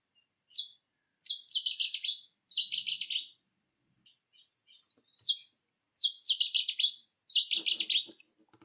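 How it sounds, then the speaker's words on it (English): A Cetti's warbler sings loud, explosive bursts of rapid notes from deep in vegetation, repeated several times with short silences between, clear and close. "the Chetty's warbler's loud and explosive song from deep in vegetation is unmistakable"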